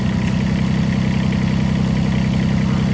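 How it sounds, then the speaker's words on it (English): Mini excavator engine idling steadily with its hydraulics switched on, a constant low mechanical drone and hum at close range with no talking. "Let's just listen to the engine."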